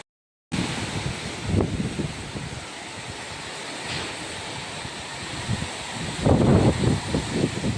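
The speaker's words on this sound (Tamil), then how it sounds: "சார காற்று வந்து அடிக்குது" Strong gusting wind roars steadily with a rushing, rain-like hiss during a village rainstorm, swelling louder toward the end.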